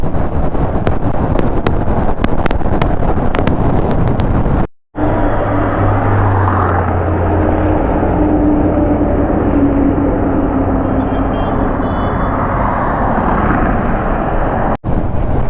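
Kawasaki Ninja 1000SX motorcycle accelerating hard toward 140, with a loud, rising engine roar under heavy wind rush after a brief gap, heard from the rider's position.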